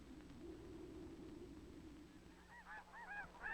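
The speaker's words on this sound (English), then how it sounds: "the famous migration of waterfowl is underway. Thousands of ducks and geese leave northern nesting grounds" Geese honk during autumn waterfowl migration, a cluster of calls rising near the end over a steady low rumble of background noise, fairly faint and distant.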